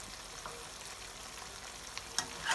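Mutton black pepper roast with potatoes and masala is stirred in a pan, giving a faint, soft sizzle broken by occasional light scrapes and clicks of the spoon, louder near the end.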